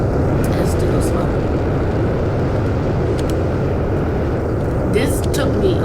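An airplane in the Roblox-style building game Plane Crazy flies with a steady, loud engine drone that holds throughout, with faint higher hiss bursts near the end.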